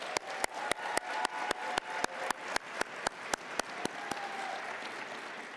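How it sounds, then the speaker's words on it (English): Conference audience applause at an opening session, heard as a broad wash of clapping punctuated by a sharp, evenly spaced rhythmic beat about four times per second that stops near the end. "Let's give him a round of applause."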